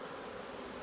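Bees buzzing steadily and close around a hive being smoked during queen rearing, a dense continuous hum with no pauses and no voices.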